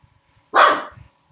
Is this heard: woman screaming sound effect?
no